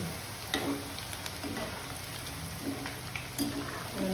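Mangode fritters fry in oil over a medium flame with a steady crackling sizzle close by, broken by brief clinks and scraping as they are stirred.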